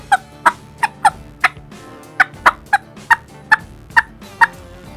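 Turkey mouth call cutting, played at varying breath pressures to mimic several turkeys: a series of sharp, loud clucks and cuts in irregular bursts, close and alone.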